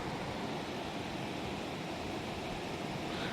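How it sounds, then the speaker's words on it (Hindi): Steady, dense rush of a flowing river used for rafting at Jim Corbett, a constant broadband wash of water with no breaks, heard faintly at a distance. "बहता हुआ पानी कितना अच्छा लगता है ना।"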